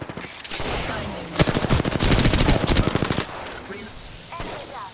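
Rapid automatic gunfire in the video game Apex Legends, a loud close burst of steady rattling shots lasting about two seconds, with scattered shots and game sounds before and after.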